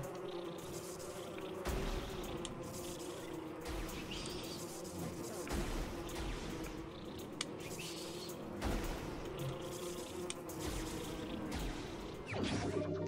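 Steady insect buzzing of bees in the video game Metroid Prime Remastered, a dense droning hum that swells and fades over several seconds, alone without talk.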